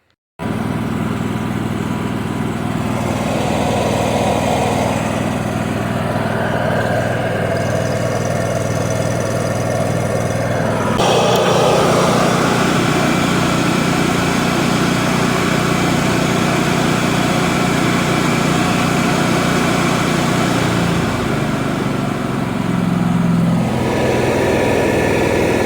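Engine-driven welder powering a Miller 12RC suitcase feeder off a Hobart Ironman 240 MIG, running loud and close with a steady drone that shifts between full throttle and low idle, with a sharp change around eleven seconds.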